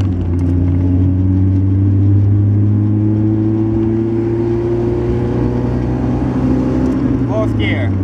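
A manual five-speed car's engine pulling steadily in third gear, a loud constant drone with a slowly rising pitch heard from inside the cabin, with a voice speaking briefly near the end.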